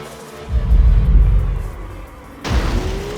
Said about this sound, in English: Smashed my car there.